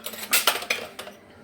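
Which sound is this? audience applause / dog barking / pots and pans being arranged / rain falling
pots and pans being arranged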